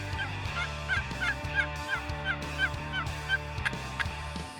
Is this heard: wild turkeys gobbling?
yes